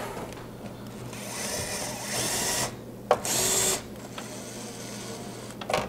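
Gyroscopic electric screwdriver driving screws into a Gigabyte 990FXA-UD3 motherboard: a close whirring motor buzz rising and stopping in short bursts, with a brief high whine, and no talking.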